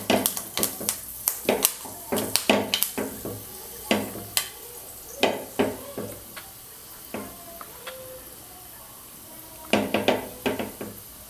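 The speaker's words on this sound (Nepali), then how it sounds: "एकछिन यसलाई कालो कालो हुने गरी फ्राई गर्नुपर्छ।" Fenugreek seeds frying in a pan until they turn black, with a steady sizzle broken by frequent sharp clicks and scrapes of a utensil against the pan, close and moderately loud, with no talking.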